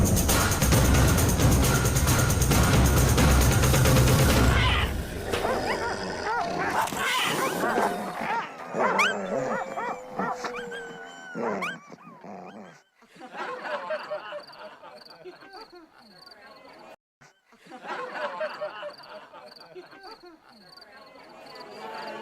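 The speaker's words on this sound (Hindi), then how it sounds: "शिकारी कुत्ते, उन्हें उसकी गंध मिली।" Hunting dogs, starved and goaded by cruel hunters and closing in on a scent, give excited yelps, whines and barks over a noisy, chirring outdoor backdrop, with a loud wash of sound at the start.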